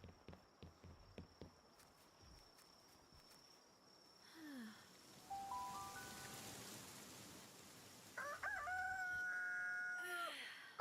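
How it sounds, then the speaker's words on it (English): A rooster crows twice in Palworld, the calls standing out over steady rain and soft footsteps, with a few scattered taps at the start. "Cock-a-doodle-doo."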